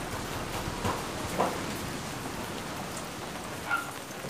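Steady rain falls at a pigeon race venue in Ilagan, Isabela, a continuous patter with a few louder drops standing out.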